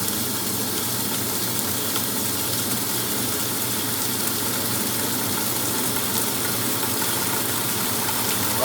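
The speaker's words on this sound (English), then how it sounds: "Top speed. It's kicking it now. There she goes. That's the rinse and spin cycle." A restored vintage washing machine in its rinse and spin cycle, giving off a steady churning motor drone with sloshing, hissy water noise, constant and close throughout.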